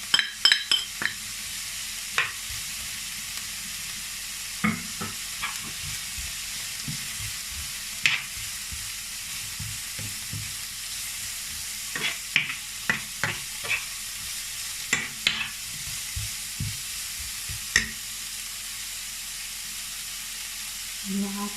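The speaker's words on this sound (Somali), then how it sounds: "Marka waxaan ku darayaa carafti." Garlic fries in olive oil in a pan for zucchini pasta, giving a quiet, steady sizzle broken by intermittent scraping stirs of a utensil, close by and without talk.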